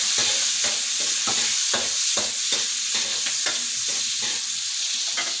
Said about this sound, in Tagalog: Maggisa na tayo ng sibuyas